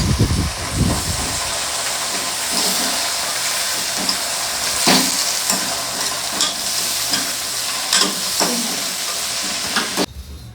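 Mustard seeds and cumin crackle and sizzle in hot oil in a home kitchen, a steady frying hiss broken by sharp pops and stirring scrapes, close and loud, with no talk.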